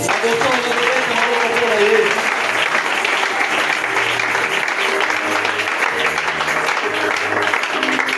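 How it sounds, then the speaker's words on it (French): A church congregation applauds loudly for their pastor during a service. The clapping is sustained and close, with a voice heard over it. "En tout cas, acclamez pour lui."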